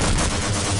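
Gunfire aimed at the Gonarch boss in the Half-Life video game, a dense, loud, continuous burst of rapid shots with low booming thumps running through the whole moment.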